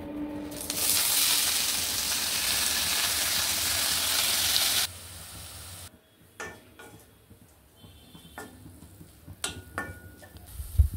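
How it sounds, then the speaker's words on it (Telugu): Spinach frying in a spoonful of oil gives a loud, steady broadband sizzle for about five seconds. A quieter stretch follows with a few utensil clicks and light scraping. "పాలకూర వేయించాలి"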